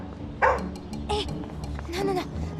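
A dog barks in short, sharp bursts, three separate yaps spaced about half a second apart, close and moderately loud against a low background hum.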